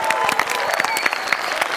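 A school gathering of students and parents breaks into loud, dense applause, many hands clapping in a rapid continuous patter with some crowd noise mixed in.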